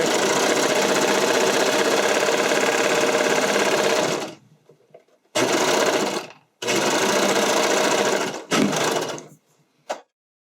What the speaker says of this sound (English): That's how I sew the first leg elastic in